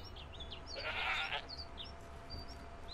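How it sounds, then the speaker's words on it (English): Goats bleat in a short burst near the middle of the Sundarpatan map in the video game theHunter: Call of the Wild, over a steady low rumble with scattered high bird-like chirps around it. "Okay, some sort of goats."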